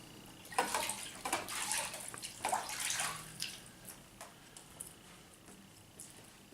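Water rinsing sodium hydroxide off hands, splashing and dripping in uneven bursts at close range, loudest early then trailing off to quieter drips.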